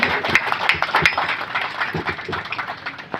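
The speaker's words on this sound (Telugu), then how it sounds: "ఒక్కసారి గట్టిగా చప్పట్లతోటి స్వాగతం పలకవలసిందిగా కోరుతున్నాము" Applause from the audience greeting guests at a retirement function in Aswapuram mandal, Bhadradri Kothagudem district, a short burst of steady, moderately loud clapping from a crowd.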